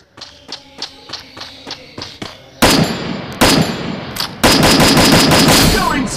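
Gunfire in the Free Fire Lite mobile game: a quick rhythmic series of single shots, then louder, denser bursts of automatic fire with brief gaps between them.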